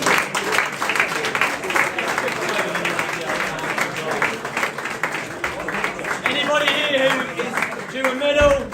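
A room of people applauds the promoted Vets team at a sports club awards night, with steady clapping and crowd chatter mixed in throughout and some louder voices near the end.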